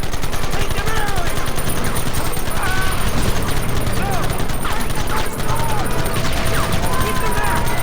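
Gunfire in the Red Dead Redemption video game, a dense continuous fusillade of overlapping shots behind shouting game characters, loud and unbroken throughout.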